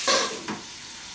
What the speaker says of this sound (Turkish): Kızarmasını bekleyelim.